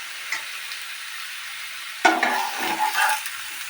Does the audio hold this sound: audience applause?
no